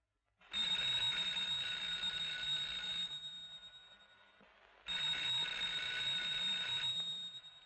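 An old telephone rings unanswered in two long electric bursts separated by a pause, a shrill continuous bell that rises sharply and fades, with no voices.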